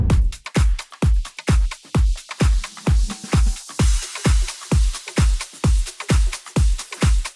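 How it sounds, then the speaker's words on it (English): A punchy progressive house electronic drum loop plays alone, steady kicks thumping on a regular beat beneath crisp hi-hats, top loops and a shimmering ride. "Drums altogether sounds like this."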